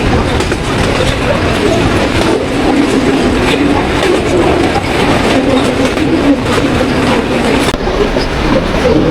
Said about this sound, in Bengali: এই হচ্ছে বনলতা এক্সপ্রেস ট্রেন।